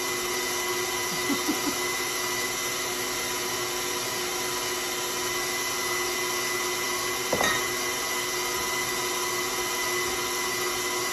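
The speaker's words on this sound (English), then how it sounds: "So now I'm going to stop my mixer." Electric mixer beating oatmeal cookie dough with all-purpose flour, a steady loud motor whir throughout with a couple of brief knocks against the bowl.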